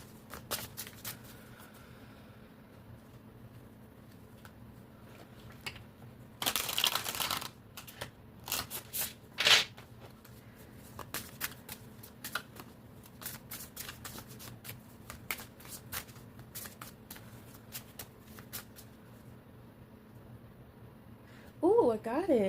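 Oracle cards being shuffled by hand, soft rapid riffling bursts and flicks scattered through a quiet room, with a longer flurry near the middle and occasional faint talk.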